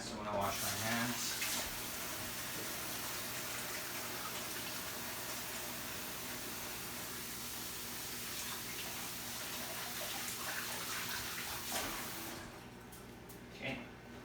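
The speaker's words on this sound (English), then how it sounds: "I'm going to wash my hands" Tap water runs steadily while hands are washed at a kitchen sink during meatloaf preparation, a continuous close rushing stream that tails off near the end.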